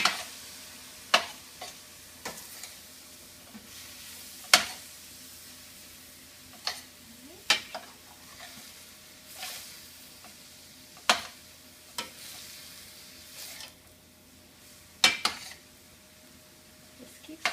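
Vegetables with tomato sauce and spices cooking in a pan for stuffed bell peppers, a faint steady sizzle broken by scattered sharp clicks and scrapes of a utensil against the pan at irregular intervals.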